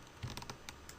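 A few quiet, quick computer keyboard key clicks sound close up in a hushed room during a Blender modelling session, with no talking.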